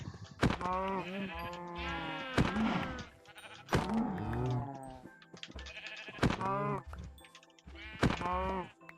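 Sheep in the Minecraft video game bleating repeatedly, several loud, clear wavering bleats spaced a second or two apart with short pauses and faint clicks between them.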